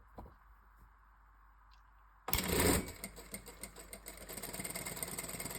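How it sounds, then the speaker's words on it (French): A Jack A5E industrial sewing machine stitches a seam: near-silence, then the motor kicks in with a loud burst and settles into a fast, steady mechanical whir with rapid needle ticking, close up and without talk. "Donc, je commence à coudre."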